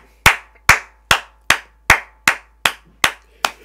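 Nine sharp, evenly spaced claps ring out one after another in a church, loud and close, each with a short echo and no voices.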